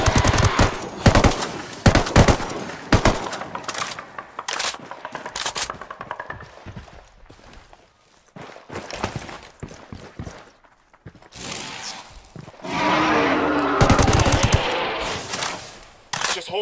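Gunfire in Ghost Recon Wildlands during a Predator hunt, with dense rapid automatic bursts and scattered single shots, loud and close. A sustained noisy roar follows near the end.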